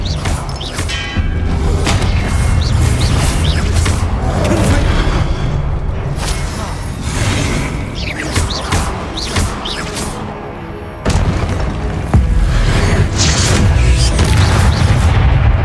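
Repeated spellcasting combat in a Hogwarts video game, a dense run of booming thuds, crashes and sharp magical bursts, loud and continuous, with one brief lull before more impacts.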